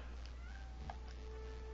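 A cat gives one short, faint meow partway through, set against a quiet low background hum.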